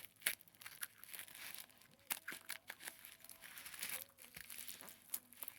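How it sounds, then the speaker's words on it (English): Quiet, close crinkling and tearing of packaging, with scattered sharp snips and rustles as scissors cut through it, no talking. "We're gonna remove the packaging."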